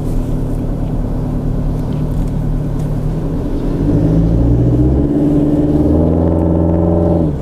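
A remapped Toyota Hilux on 18-inch BFG tyres accelerates, its engine drone loud and close, rising in pitch through a gear as it pulls harder toward the end.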